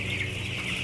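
Broiler chickens cluck and murmur in a chicken coop bedded with sawdust litter, a dense, continuous flock chatter that stays steady and close throughout with no talking.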